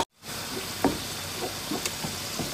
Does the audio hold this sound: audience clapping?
no